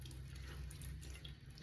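Tap water runs steadily into a sink during a face-washing skincare routine, a continuous close splashing hiss with no talking over it.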